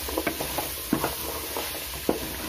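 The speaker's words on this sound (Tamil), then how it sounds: "இதை நல்லா கிண்டி விடுங்க." Vegetables for vegetable biryani stirred in a pot, giving a faint sizzle and several light scraping taps from the spoon at irregular intervals, close by with no voices.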